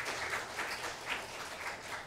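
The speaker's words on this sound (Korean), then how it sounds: "우리 박수로 환영하겠습니다." A church congregation claps together to welcome a member, a faint, steady patter of many hands with slight swells in the room.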